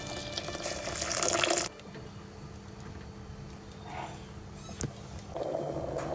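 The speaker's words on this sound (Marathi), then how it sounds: "पाणी टाकायचं।" Water runs and splashes loudly into a cooking pot of rice for a second or two, then quiet kitchen sounds follow before a softer stream of pouring water returns at the end.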